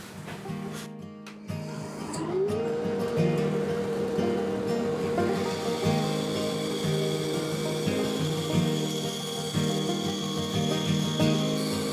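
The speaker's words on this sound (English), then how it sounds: "I'm just going to run this through and trim off the edges of the wings here on the bandsaw" A bandsaw hums steadily while the edges of wooden guitar bridge wings are trimmed, with a continuous cutting rasp under the motor tone and a brief pause near the start.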